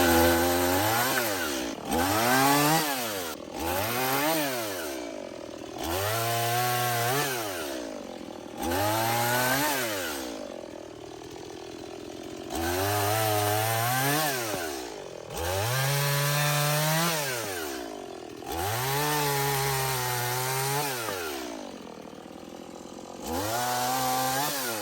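A Stihl MS170 compact chainsaw cuts through garden wood in repeated revving passes, each cut rising and falling in pitch, about a dozen cycles separated by short idling gaps, close and loud.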